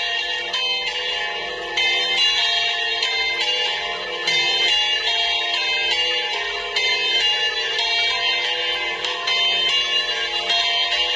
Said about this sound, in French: dormir à l'église, voilà la cloche